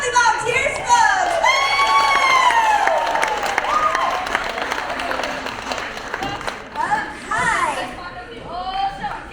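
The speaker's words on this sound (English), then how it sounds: "Round of applause for our lovely volunteers, folks." Audience at a live show at Old Tucson Studios in Tucson, Arizona applauds and cheers for volunteers, steady clapping with whoops and shouts from children and adults, chatter and a voice mixed in throughout.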